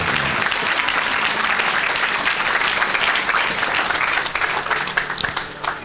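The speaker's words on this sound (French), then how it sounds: "Acclamez pour Jésus-Christ." A church congregation at an evangelistic service applauds loudly and steadily, a dense wash of many hands clapping at once that holds throughout and only begins to thin slightly near the end.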